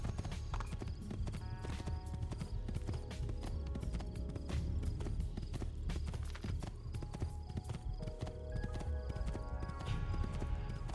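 Horse hooves clip-clop in quick steady rhythm as a horse is ridden in the video game Assassin's Creed 2, close and continuous with a faint whinny and other game sounds behind.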